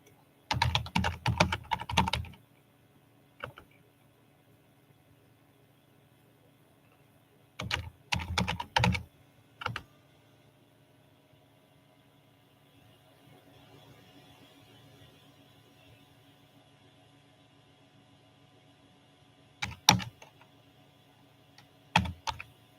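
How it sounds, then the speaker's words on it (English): A computer keyboard in use, several short bursts of rapid, close keystrokes separated by long quiet gaps, with faint background hum and no talking. "Let me type in"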